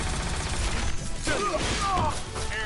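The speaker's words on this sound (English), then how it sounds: "Target acquired. It's the big one. Proton cannon." Proton cannon super attack in the fighting game Marvel vs. Capcom, a dense barrage of blasts, crashes and rumbling impacts with game announcer voice lines mixed in throughout.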